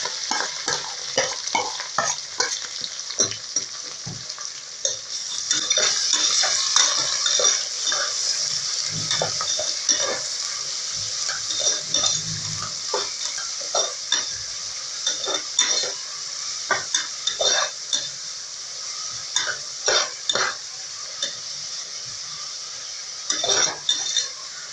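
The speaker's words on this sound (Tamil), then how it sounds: "வெங்காயம் நல்லா கோல்டன் கலர்ல வர வரைக்கும் நல்லா வதக்கிடுங்க." Sliced onions and green chillies sauté in oil in a pan for vegetable biryani, with a steady sizzle and repeated scraping, clinking stirs of a spoon against the metal throughout, and no talk.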